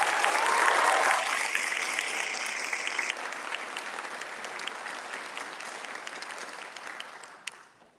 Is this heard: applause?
yes